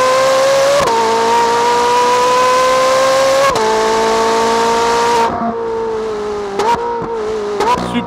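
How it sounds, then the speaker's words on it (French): A Ferrari with its stock exhaust screams at high revs, then blips down through the gears with sharp falling pitch steps, loud and close, settling into lower bursts and crackles near the end. "j'adore ce bruit quand tu descends les vitesses."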